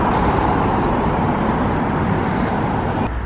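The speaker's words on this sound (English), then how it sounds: "there's still quite a few, you know, cars, and it's quite loud at times" Heavy car traffic on a busy city street in Abu Dhabi, a loud, steady roadway roar of passing vehicles that fills the whole stretch without a break.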